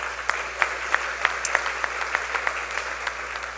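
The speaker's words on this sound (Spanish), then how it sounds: "Un fuerte aplauso para él también." Scattered, sparse clapping from an audience at an international public legal management seminar, a few distinct hand claps in a loose rhythm over a low steady room hum, without speech.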